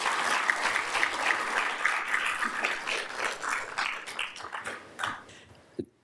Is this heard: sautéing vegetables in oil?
no